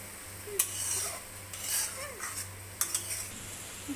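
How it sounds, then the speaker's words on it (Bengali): A spoon scrapes and clinks around a pan of potol posto curry with Kashmiri chili powder, a few distinct knocks over a faint sizzle and low hum, close and quiet. "কাশ্মীরি মরিচের গুঁড়ার প্যাকেটটা একটু দিলাম। নাড়াচাড়া করছি।"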